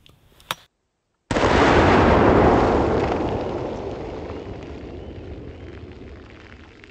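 A slug fired from a double-barrel sawed-off shotgun: one loud, close blast that rolls off in a long fading echo, with a faint click just before it.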